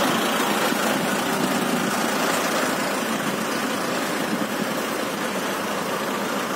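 Several tractor engines idling together in a dense, steady drone, fairly loud and unbroken, with no talk.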